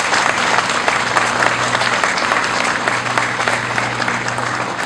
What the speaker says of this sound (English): let's give a round of applause to Atotech for a no accident record.